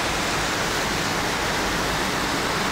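A downpour in Phnom Penh, Cambodia drums steadily as a thick, even rush of water that stays loud and close, with no pauses and no voices.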